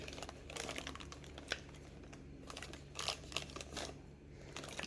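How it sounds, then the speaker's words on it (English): Soft crinkling of a plastic bag, handled quietly in irregular rustling bursts close by, with no talk. "just a plastic bag"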